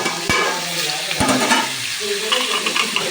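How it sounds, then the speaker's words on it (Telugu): Pieces frying in a pan sizzle steadily while a spoon stirs them, with two sharp knocks of the utensil against the pan and a scraping, bubbling sizzle continuing close by. "మళ్ళీ ఒకసారి కలుపుకొని మూత పెట్టుకోవాలి."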